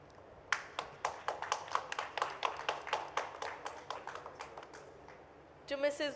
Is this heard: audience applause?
yes